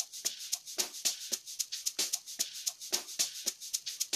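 An amapiano percussion loop built in Caustic 3 from shakers, congas and a snare, with quick, evenly repeating hits in a tight syncopated groove at moderate level and no talking.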